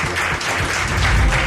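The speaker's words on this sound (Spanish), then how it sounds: "Aquí le tenemos un aplauso para él" A studio audience briefly applauds a guest Egyptologist on a talk show, a short burst of dense, close clapping without voices.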